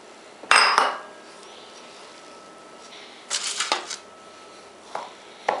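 Scraping and clinking in a bowl as melted butter is mixed into crumbs, in short bursts, with a sharp knock at the start and quieter stirring later.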